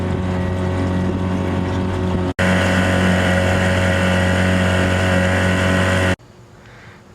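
1971 Johnson 4hp outboard motor running on a small boat, a loud, steady buzzing drone close by, briefly cut by a dropout, then falling to a quieter idle near the end.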